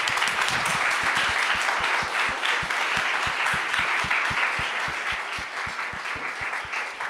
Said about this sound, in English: Maybe a huge round of applause for all the speakers.